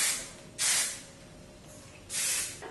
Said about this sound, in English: I got a little spray of hairspray